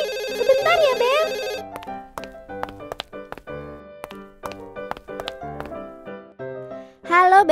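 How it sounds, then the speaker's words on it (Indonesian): A mobile phone rings in a cartoon scene with a bright, repeating melodic ringtone. It starts loud and up front, gives way to a stretch of plucked tones, and a voice breaks in at the end. "HP-ku berbunyi."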